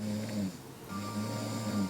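A person snoring in a quiet room: two slow, rasping rattles about a second apart, low and steady, picked up fairly faint at close range.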